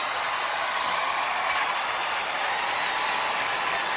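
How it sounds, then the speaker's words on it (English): Sustained audience applause fills the hall at the Miss Universe 2018 pageant in Bangkok, Thailand, a steady dense clapping that holds at even loudness throughout with no talk over it. "Another round of applause for Africa and Asia Pacific."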